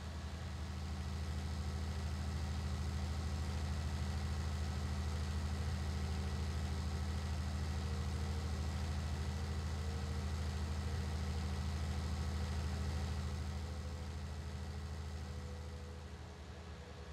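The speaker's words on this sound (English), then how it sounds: "This tractor goes decently fast." A tractor engine in a farming video game drives along with a steady, continuous low drone that holds constant for most of the stretch, then eases off slightly near the end; no talking over it.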